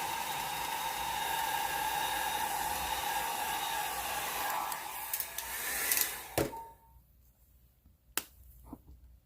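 A hair dryer blows on an alcohol ink painting of yellow flowers, a steady, fairly loud whooshing rush for about six seconds that cuts off abruptly, followed by a few sharp clicks in near silence.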